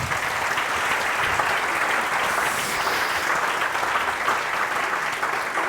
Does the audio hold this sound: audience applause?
yes